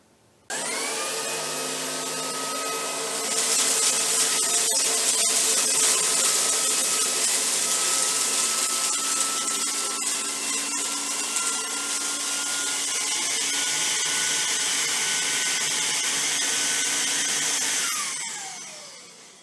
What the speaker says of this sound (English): ran the vacuum over it in one pass and determined percentage pickup